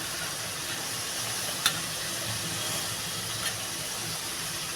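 Spice paste (masala) frying for fish curry makes a steady, even hiss of sizzling oil, with two faint clicks along the way and no talking.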